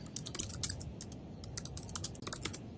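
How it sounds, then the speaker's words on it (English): Rapid clicking of computer keyboard keys, steady and fairly quiet, with irregular bursts of keystrokes over a low background hum. "I'm going to just type it up."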